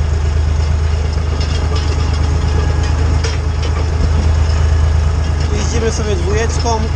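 A tractor engine running steadily at low revs while rolling a spring field in second gear, a constant low rumble with someone talking over it.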